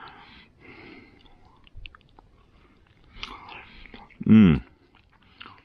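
Someone chews a warm pulled pork sandwich on garlic bannock outdoors, soft wet mastication and a few quiet bites close to the mic, with one loud burst near the end and a brief murmur of appreciation.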